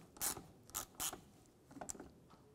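A ratchet tightens the bolt on a fog light bracket of a 2003–2010 BMW X3, giving three sharp clicking strokes and then a quicker, softer run of clicks, close up.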